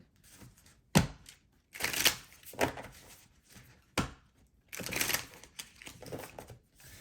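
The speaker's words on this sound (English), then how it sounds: "I'm shuffling on top of my calendar" Stiff, new, small tarot cards being shuffled on top of a calendar in several short riffling bursts, close and fairly quiet, with soft taps and thumps between.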